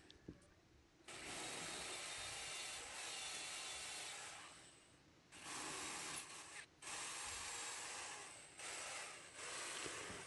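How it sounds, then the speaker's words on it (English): An electric drill bores into a wall to take anchor bolts during a gate renovation, giving two long, loud, steady grinding bursts separated by a short pause. "It's time for me to make a hole on the wall for the anchor bolts to go in."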